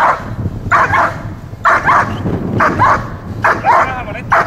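Dog barking in short bursts of several yips under and between a person's spoken commands, close and loud.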